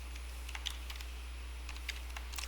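Scattered computer keyboard taps and an Enter press while entering text in Excel, a few soft close clicks in small clusters over a steady low electrical hum.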